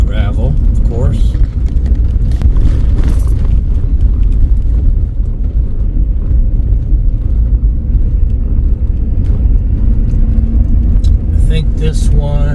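A car rolls along a gravel county road, a loud, constant low rumble of tires and engine filling the whole stretch, with people talking over it.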